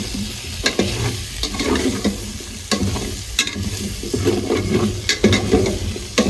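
A spice paste of cumin, coriander, cardamom, dried and green chillies and ginger paste sizzles in a pan under repeated, rhythmic spatula scrapes and stirs, close and fairly loud.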